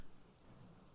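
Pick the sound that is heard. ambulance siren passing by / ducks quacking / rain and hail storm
rain and hail storm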